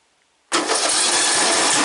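After a moment of silence, a small one-cylinder lawn tractor engine starts abruptly and settles into a steady, loud running roar.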